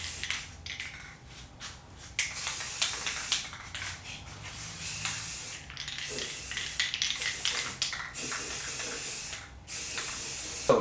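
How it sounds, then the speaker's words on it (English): Spray primer hisses from a can onto a cosplay mask in a series of short and longer bursts with brief pauses between them, close to the microphone and with no voices. "I'm gonna go ahead and prime it one more time"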